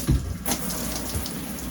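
A Delta Foundations bath and shower faucet is turned on after a temperature adjustment repair. There is a brief knock, then water runs steadily from the spout with a close, constant hiss.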